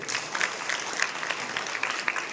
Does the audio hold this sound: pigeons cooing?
no